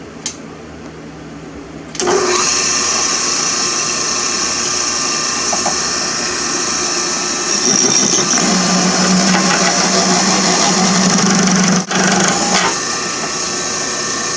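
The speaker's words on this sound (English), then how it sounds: "I have a hole saw, and I'm going to put some holes in the sidewall." A loud, steady power-drill whine with a hole saw grinding through a tire sidewall filled with foam, starting abruptly and continuing without pause, its pitch shifting slightly midway.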